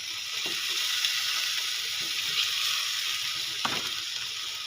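Argentina corned beef sautés with onion and garlic in a pan, a loud, steady, close sizzle with a few soft stirring scrapes and taps over it and no talking.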